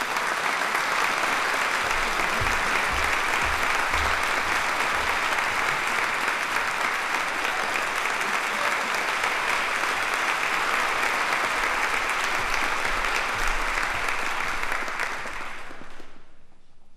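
An audience at a college of education ceremony gives steady, loud applause to welcome a performer. The clapping holds for about fifteen seconds and then tapers off quickly.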